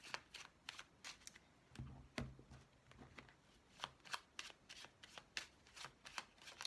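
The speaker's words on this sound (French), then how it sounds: "on va laisser parler les cartes" Tarot cards being shuffled by hand during a reading, a quiet run of soft crisp riffles and slaps repeating in an uneven rhythm, with no voice over them.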